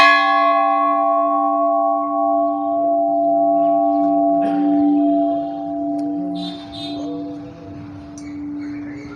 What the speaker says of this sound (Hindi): और यहाँ के सिस्टम के अनुसार घंटियाँ यहाँ भी बांधी हुई है